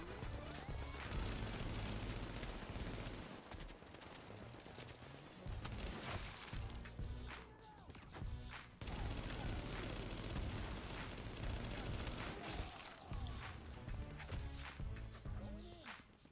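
Sustained automatic gunfire from The Division, a dense fusillade of rapid shots and impacts that runs nearly nonstop with brief lulls, loud and close throughout.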